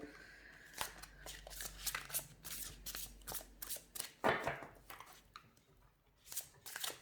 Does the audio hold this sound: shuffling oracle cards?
yes